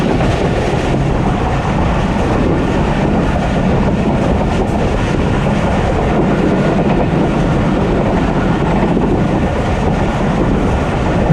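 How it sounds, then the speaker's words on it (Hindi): Pakistani express train hauled by a GEU40 locomotive passing straight through the Lundu station yard, a loud, steady roar of rolling wheels and rattling coaches held at a constant level without a break. "अभी हम लुंडू स्टेशन के यार्ड में हैं और यहाँ से ये ट्रेन थ्रू पास करेगी।"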